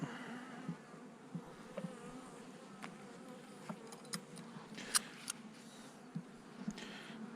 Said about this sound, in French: Les abeilles sont cool en plus